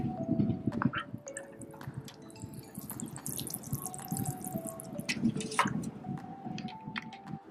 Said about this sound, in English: And add a little bit of water.